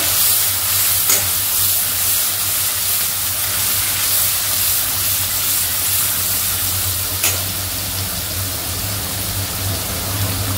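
Chicken Schezwan fried rice being stir-fried with soy sauce, giving a loud, steady hiss and sizzle throughout with a couple of sharp clinks, over a low droning hum.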